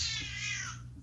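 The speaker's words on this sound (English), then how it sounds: "Is that a cat?" A cat lets out one drawn-out, whining meow or yowl during a fight between cats, faint and somewhat distant, fading out after about a second.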